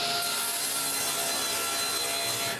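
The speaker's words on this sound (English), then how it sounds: "So I need to cut a bunch of 3-inch strips." Wood being sawn into 3-inch strips for a torsion-box folding shelf, a loud, steady, continuous rasping cut that runs unbroken from start to finish with no voices.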